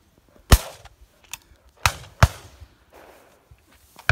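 Shotgun shots fired at driven partridges crossing in front of the guns on a hillside drive, several sharp, loud reports spaced irregularly, some fairly close and others fainter in the distance.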